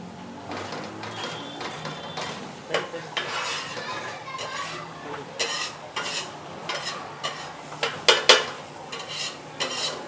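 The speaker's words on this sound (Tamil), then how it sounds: "மேஷ் பண்ணி நல்லா பேஸ்ட்டாக போடணும்." Vegetables including potato being mashed into a paste in a pan for pav bhaji, with repeated scraping, stirring and clinking of a utensil against metal, close and fairly loud, with occasional sizzling.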